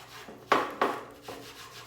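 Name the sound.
scrubbing antique furniture surface with wet grade 3 steel wool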